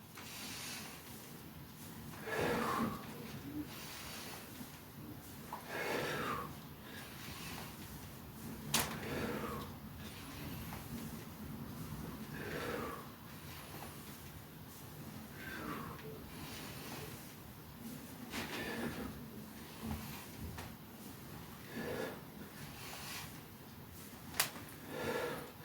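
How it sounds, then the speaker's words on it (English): Deep, slow breaths during a gym warm-up set for a chest and shoulders workout, rhythmic inhales and exhales repeating every few seconds over steady room noise, with a couple of faint clicks. "Nice big breaths."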